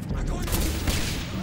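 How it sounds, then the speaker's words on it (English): Dense, continuous bursts of explosions and gunfire from the video game Singularity, loud and crowded with no gaps, heard alone throughout. "Explosions!"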